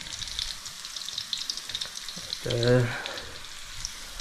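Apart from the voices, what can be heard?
pork being sautéed in a pan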